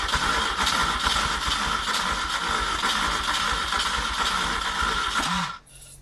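A Peugeot 104 engine cranks and sputters for several seconds, a steady, loud churn of starter and uneven coughing firing that never catches, then cuts off abruptly near the end.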